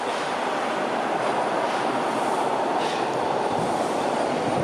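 A subway train on Yonge Street in Toronto rumbles steadily past at close range, a loud continuous roar of wheels on rails with faint squealing overtones.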